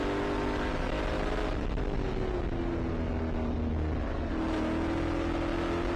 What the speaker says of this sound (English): You hear how much they got off the throttle there, James.